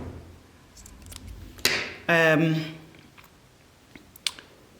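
Scissors snip through crochet yarn with one sharp close cut and a crisp ringing shear, surrounded by faint clicks and handling noises and a quiet voice in the background.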